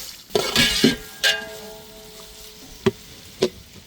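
Onions sizzle in hot oil with cloves, cardamom and cinnamon, a bright crackling hiss broken by a few sharp stirring knocks and bursts of spattering, close by and without talk.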